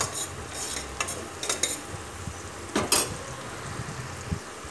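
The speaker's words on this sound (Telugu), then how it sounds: "ఇప్పుడు అంతా ఒకసారి మిక్స్ చేసుకోవాలి." Onions frying in a pan with turmeric and coriander powder are stirred with a spoon, giving repeated scraping strokes and soft clinks over a low sizzle. The sound is close and moderately loud, with no talking.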